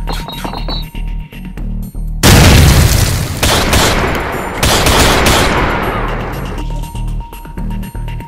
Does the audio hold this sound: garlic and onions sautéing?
no